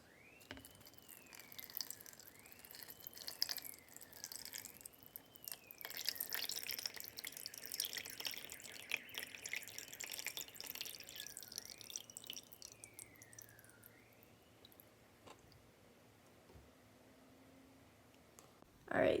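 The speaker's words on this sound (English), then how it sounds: "So now we just have to add in the water. So what I'm gonna do is I'm just gonna carefully pour it in." Water poured carefully into a small mini aquarium tank, a soft continuous trickle and splash with faint drips, fairly quiet and close, while repeated chirping tones sound in the background.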